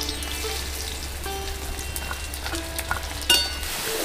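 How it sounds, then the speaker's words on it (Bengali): Onions fry in ghee until deep red, a soft continuous sizzle with light crackles and a low steady hum underneath, one brief louder clatter near the end, no voices. "যে পরিমাণে পেঁয়াজ নিয়েছিলাম তার হাফ দিয়েছি আমি বাটতে, আর হাফটা আমি ভেজে নিচ্ছি"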